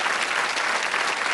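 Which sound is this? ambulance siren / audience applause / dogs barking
audience applause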